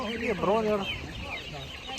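Day-old chicks and hens at a Kolomyia livestock market give a brief cluster of high, wavering cheeps and clucks up close, fading into quieter background chatter.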